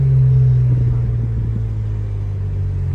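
A BMW 335i engine running at night, a deep, loud, steady low rumble held close for a few seconds with a slight swell near the start.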